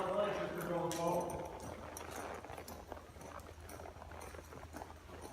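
A horse loping off into a canter, hoofbeats clip-clopping in a steady rolling rhythm at moderate distance, with a rider talking over them.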